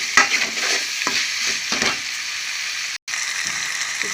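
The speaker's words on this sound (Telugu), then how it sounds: "ఇది ఇలాగా ఫ్రై చేస్తాను చక్కగా" Prawns sizzle loudly in a hot pan while being stirred, a bright continuous frying hiss broken by scraping stir strokes and one brief cutout.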